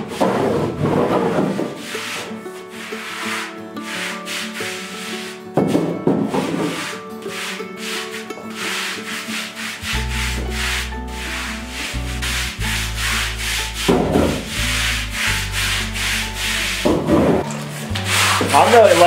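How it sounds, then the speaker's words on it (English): A mop working tung oil across a concrete floor from a bucket, sealing it: steady wet rubbing and scrubbing strokes, close and continuous, with a low droning hum joining partway through and no talk. "So we're just gonna use a mop and a bucket. Now we're just sealing the concrete floor."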